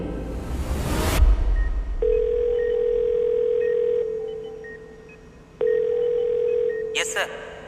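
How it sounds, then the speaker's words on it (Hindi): A telephone dial tone sounds as a steady, even hum in two long stretches separated by a brief break, following a loud thump, with no talking over it. "मैंने तुरंत राजा को फोन किया।"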